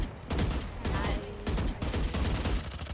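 Rapid bursts of gunfire from Valorant crack out in dense volleys throughout, loud and close, with a voice talking faintly underneath.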